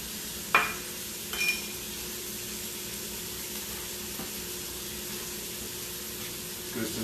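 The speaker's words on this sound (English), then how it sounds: "Notice we still have a sizzle in my pan." Faint, steady sizzling of chicken frying in a pan, with a couple of brief clinks of utensils, no talking.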